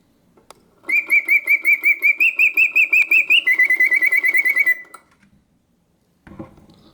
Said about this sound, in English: The bird sings with full voice, yet the mechanism runs smoothly and quietly.